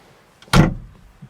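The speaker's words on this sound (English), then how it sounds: "Close the door," Mercedes-Benz 280 SL Pagoda classic car door closing with a single loud, solid thud, close up and alone with quiet around it.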